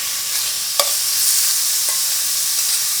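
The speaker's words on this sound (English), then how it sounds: "Next, I'm going to cook my marinated pork." Marinated pork hits a pan preheated over medium-high heat for japchae, giving a steady, loud, close sizzle that fills the whole stretch, with one sharp clink of a utensil early on and no talking.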